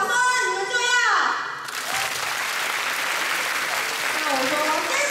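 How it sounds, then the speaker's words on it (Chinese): A young audience at a university department's freshman welcome event bursts into loud, sustained clapping that fills the room. A host's voice is heard briefly just before, and another voice returns near the end. "只要我们只要说掌声，你们就要。"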